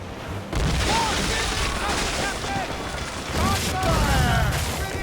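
Ship cannons fire in volleys during a naval battle in Assassin's Creed Rogue, sounding as loud rumbling booms over continuous battle noise and crashing, with shouted voices heard over it.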